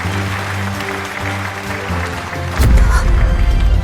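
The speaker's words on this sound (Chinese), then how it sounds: "让我们用最热烈的掌声" Applause at an international medical award ceremony swells suddenly after a brief spoken lead-in, loud dense clapping from a large audience filling the rest of the moment.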